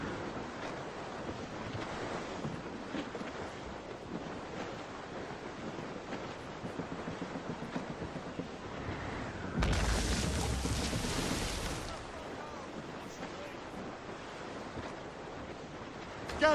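Rain and gusting wind at sea aboard a sailing ship in Assassin's Creed Rogue, a continuous roar of surf and wind with a louder, harsher gust swelling midway before settling back.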